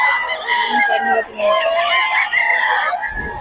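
A rooster crows loudly and steadily, with other fowl calling in the background, no talking.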